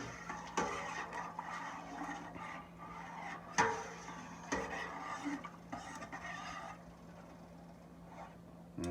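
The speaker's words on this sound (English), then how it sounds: "Stir it in real good" Stock being stirred into a pot of Mississippi-style gumbo, soft scraping and rubbing strokes with occasional clinks of a spoon against the pot, quiet and close.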